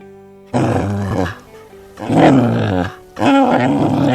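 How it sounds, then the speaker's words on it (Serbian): Deep, rough growling in three sustained bursts, loud and close, separated by brief pauses, with no other sounds around it. "A ovako se čuje kada je ljut i kada reže."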